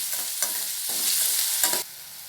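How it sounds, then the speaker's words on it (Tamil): Sliced onions with a little salt fry in a hot pan, sizzling steadily as a spoon scrapes and stirs them in several distinct strokes, heard up close with no talking. "வெங்காயம் பொன்னிறமாக நல்லா செவந்து வரட்டும்."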